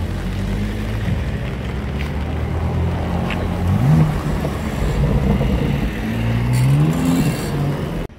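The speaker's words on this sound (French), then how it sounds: "J'ai entendu un V8." A V8 car engine roars past with a deep throaty rumble, revving up and shifting through gears amid wind and road noise.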